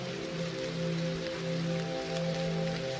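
Steady rain falls continuously over a meditative setting, a dense even hiss with faint droplet patter and a low sustained musical drone beneath, no voices present.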